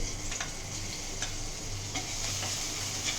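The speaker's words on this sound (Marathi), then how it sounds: "ते तुपामध्ये जरा परतून घ्यायची" Green chili sautéing in ghee in a pan, a bright close crackling sizzle with quick ticking spatters and a few light stirring scrapes, steady and fairly loud.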